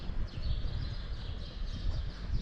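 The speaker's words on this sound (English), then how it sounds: "Oh, you've got some noisy birds." Noisy birds call outdoors in Santa Ponsa, Mallorca, a repeated chattering, squawking chorus that carries over a steady rumble of wind or background noise, with no voices.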